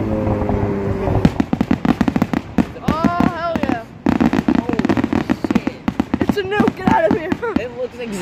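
Fourth of July fireworks explode in rapid, crackling volleys, loud, dense bursts and pops following one another for several seconds, with excited voices and whoops from onlookers mixed in.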